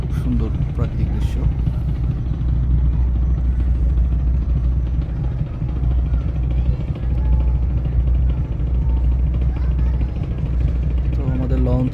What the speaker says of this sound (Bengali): তো আমাদের লঞ্চ ব্যাক গিয়ার দিয়ে দিয়েছে, দেখতে পাচ্ছেন, যাচ্ছে পরবর্তী গন্তব্যে।